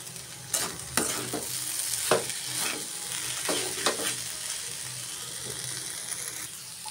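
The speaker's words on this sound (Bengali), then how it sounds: "অফ ক্যামেরা আলুটি কেটে ধুয়ে এখন বাজি বসাই দিলাম।" Sliced potatoes fry in a pan with a continuous hissing sizzle. Repeated scraping stirs of a spatula or spoon cut through it in uneven bursts, close by and fairly loud, with no voices.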